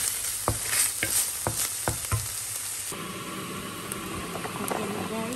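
Pork, onion and garlic stir-fry in a hot pan for Hakka noodles with a loud, close sizzle and a run of quick spatula clanks, then a denser, steadier frying hiss takes over.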